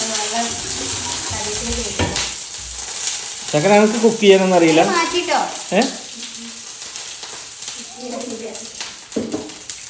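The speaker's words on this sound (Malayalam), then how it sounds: "ഈ പൊരിക്കുമ്പോൾ മാത്രമായിട്ട് ഈ പൊട്ടുന്നത്" Fish for a curry fries in hot oil in a home kitchen, a constant sizzle with occasional pops under a woman's close, fairly loud talking.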